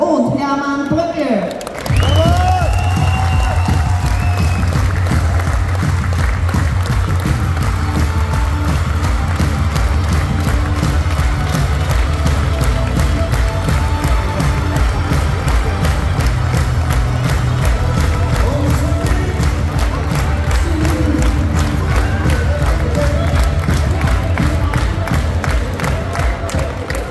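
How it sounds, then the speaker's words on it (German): Loud, sustained crowd cheering and applause fill a packed hall at an Austrian FPÖ political rally in Wels, continuing steadily throughout with whoops and shouts over clapping. "Begrüßen wir Sie hier auf der Bühne mit einem großen Applaus."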